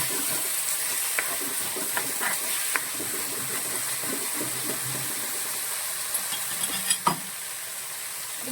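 Sliced green chillies sauté in a hot pan for tomato rasam, giving a steady close sizzle with light scraping and stirring clicks throughout.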